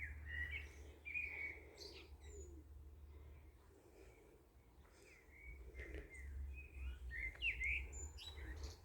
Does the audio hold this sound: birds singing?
yes